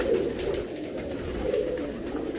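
Racing pigeons kept in a ground-floor loft coo in soft, repeated throaty murmurs that overlap from several birds, close and steady with no talk.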